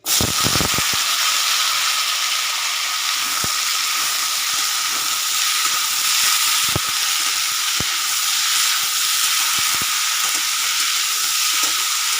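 Potato curry (aloo tarkari) fries in a pan, a loud, continuous hissing sizzle with occasional small clicks and pops, and no voices.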